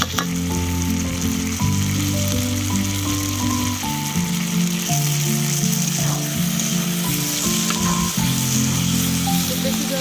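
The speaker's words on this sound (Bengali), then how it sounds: "মশলাটা তেল ছেড়ে দিয়েছে, তাই এর মধ্যে এবার ভেজে রাখা ডিমগুলো দিয়ে দেবো।" Fried duck eggs sizzle loudly in spice paste ground on a stone slab and cooked over a clay stove, a dense continuous crackle and hiss with clinks of a utensil stirring throughout.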